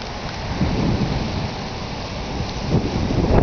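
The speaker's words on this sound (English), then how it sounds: "I could go outside except that it's raining" Steady rain with rumbling thunder in Tweed, Ontario, a continuous loud wash of rainfall with deeper thunder swells rising near the end, no voices.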